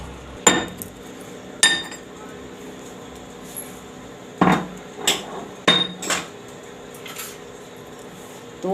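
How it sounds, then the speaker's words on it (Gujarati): Sesame, fennel and coriander seeds pounded coarsely with a pestle, giving about ten sharp, separate thuds with a metallic ring, spaced irregularly and close by, with no talking. "તો આને આપણે અધકચરા ખાંડી લેવું।"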